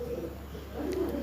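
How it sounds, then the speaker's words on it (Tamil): Pigeon cooing, a soft low repeated throaty coo close by over a steady low hum, with no voices. "பிஜின் புறா."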